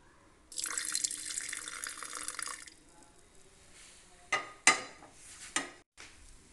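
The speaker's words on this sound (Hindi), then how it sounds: "जितनी हमने चीनी ली है उतना ही हम पानी डाल देंगे।" Water runs in a steady stream for about two seconds while being poured into coffee powder and sugar for creamy instant coffee, followed by a few sharp clinks and taps nearby.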